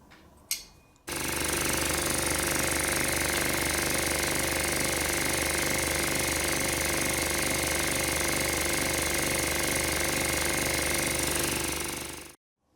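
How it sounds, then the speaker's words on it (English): An HS100 mini compressor with a single-phase motor starts abruptly after a faint click, then runs at a loud, steady, close-up hum with a fast pulsing chatter, and cuts off sharply at the end. "The motor is running faster than I thought"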